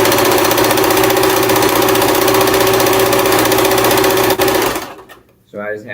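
A sewing machine stitches a flag with a loud, steady, rapid mechanical whir for several seconds, then stops abruptly, after which someone briefly speaks.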